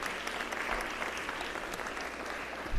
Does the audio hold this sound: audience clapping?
yes